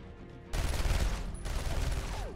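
Rapid gunfire from a video game erupts suddenly and keeps going as a dense, loud burst of automatic shots, with no speech over it.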